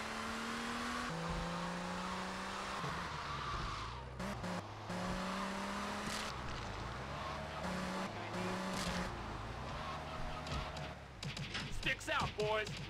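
A car drives in GTA Vice City, its engine droning and shifting pitch through revs and gear changes, with tire squeals and skids toward the end; a voice talks faintly underneath.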